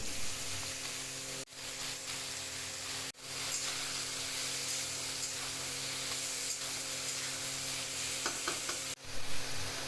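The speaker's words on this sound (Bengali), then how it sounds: "ওই তেলের মধ্যেই দিয়ে দিলাম একটা তেজপাতা দুটো শুকনো লঙ্কা আর কিছুটা পাঁচফোড়ন এরপর ভালো করে নেড়ে চেড়ে" A bay leaf, two dried red chillies and five-spice seeds frying in hot oil while being stirred, a steady hissing sizzle with a few brief cutoffs and light crackles.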